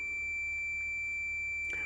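Steady unbroken continuity beep from a multimeter testing an automotive fuse, a clear tone holding alone with no talk, ending in a faint rustle.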